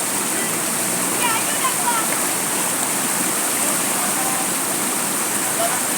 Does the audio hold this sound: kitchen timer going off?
no